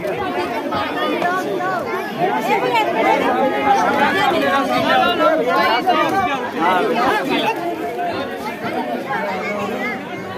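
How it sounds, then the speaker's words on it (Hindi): A large, dense crowd chatters continuously at a langar at a dargah, many overlapping voices forming a loud, steady babble throughout. "आप देख सकते हैं कितनी ज्यादा भीड़"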